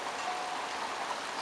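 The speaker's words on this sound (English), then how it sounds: "It's raining pretty good right now." Rain falls steadily on a patio during a downpour in Buckeye, Arizona, making a continuous, even hiss of water with no gaps and no voices.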